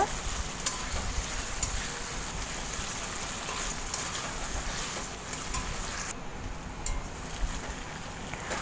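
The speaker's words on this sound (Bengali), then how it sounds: "এরপর আমি ভেজে রাখা আলুগুলো দিয়ে মশলার সাথে আলুগুলো ভালো করে কষিয়ে নেব।" Potatoes tossed with spices in a pan for a chhana kofta curry, giving a steady, continuous sizzle with scraping stirring noises throughout, close and moderately loud with no talking.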